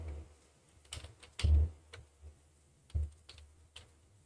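Computer keyboard keys clicking in short, uneven bursts as a slogan is typed into Adobe Express, a few louder keystrokes standing out from softer taps in a quiet room.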